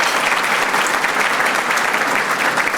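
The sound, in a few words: audience applause for county executives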